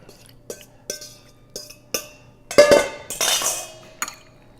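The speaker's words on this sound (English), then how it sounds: "We'll just mix this thing right up." Squid pieces being mixed into egg in a bowl with a fork, heard as a series of sharp clinks and taps of metal on the bowl, with a brief burst of wet, sloshing stirring near the middle, close and without talk.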